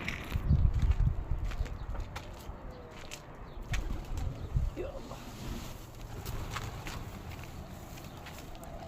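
Homing pigeons coo nearby as someone talks, with a loud burst of wing flapping early on followed by scattered rustling and soft coos under the voice.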